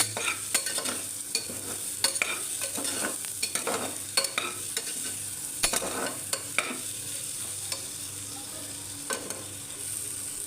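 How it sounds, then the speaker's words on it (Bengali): Dal being stirred with turmeric in a pan: a steady run of close scraping and clicking spoon strokes over a low sizzle, continuing for about ten seconds without talk. "তো এইভাবে কিন্তু 1 মিনিট মতন আমি ডালটাকে নাড়িয়ে নেব"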